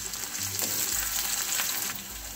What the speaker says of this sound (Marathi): एक बारीक कट केलेला कांदा, तीन ते चार हिरव्या मिरच्या बारीक कट केलेल्या आहेत त्या आपण टाकूया.